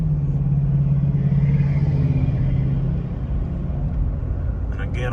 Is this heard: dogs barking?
no